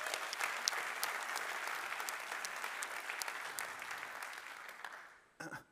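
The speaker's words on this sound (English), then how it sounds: "Can we get a round of applause?" Audience applause at the SmartCon 2023 tech conference after a talk on verifiable compute, a sustained, fairly distant wash of many hands clapping that tapers off near the end.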